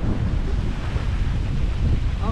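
Cold wind buffets a sailboat making about six knots between Karlshamn and Simrishamn, a loud, continuous roar of gusts across the microphone with water rushing underneath throughout.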